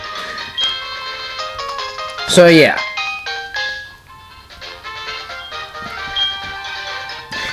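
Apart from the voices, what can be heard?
incoming phone call ringing in Pokémon SoulSilver video game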